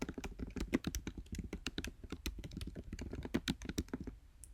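Rapid typing on a computer keyboard, a dense run of crisp close key clicks with a few heavier taps, alone without talk.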